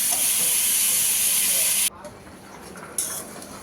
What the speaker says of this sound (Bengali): মাংসটা কষানো হচ্ছে